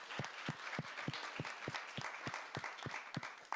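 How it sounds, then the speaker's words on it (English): A round of applause from a small crowd, steady clapping with individual claps distinct, continuing for a few seconds without talk. "Round of applause for them"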